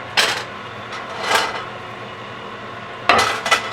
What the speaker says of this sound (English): I'm gonna start heating up my skillet here with the butter on it